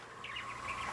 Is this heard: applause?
no